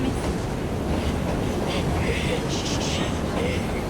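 Steady rumbling rattle of a train carriage in the game Assassin's Creed Syndicate, a continuous loud roar with clattering from start to end and no clear speech over it.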